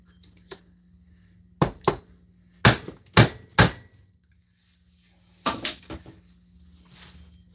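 A McCulloch chainsaw assembly is struck repeatedly with a solid object, giving sharp, loud knocks in uneven bursts: a faint tap, a pair, then a quick run of three hard blows, and a final cluster of two or three.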